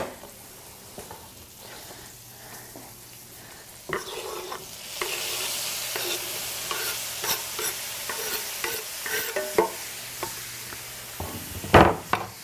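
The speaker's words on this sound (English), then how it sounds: "add in our tomato into our fry pan" Tomato is added to a hot fry pan for a lamb meatball stir fry with zucchini and capsicum, setting off a steady loud sizzle with scraping and tapping as it is stirred.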